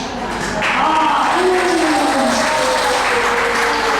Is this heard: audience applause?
yes